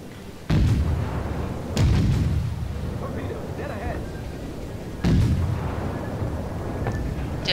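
Warship guns fire in the naval combat game World of Warships, three heavy booming salvos with rumbling decay between them, loud and close, while players chatter over the action.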